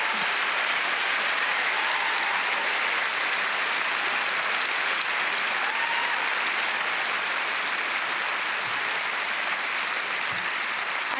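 Sustained, dense applause from a large audience at a German film award ceremony for a lifetime achievement honour, steady and loud throughout without pause.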